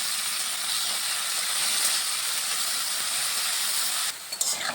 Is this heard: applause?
no